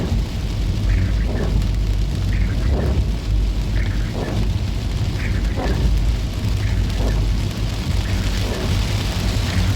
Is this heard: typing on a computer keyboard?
no